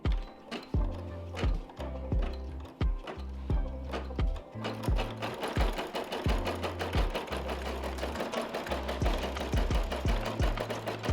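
An embroidery machine stitches a slap patch with rapid, regular mechanical clatter and thumping. It runs close and steady with no talking, briefly pausing before settling into a continuous rhythm.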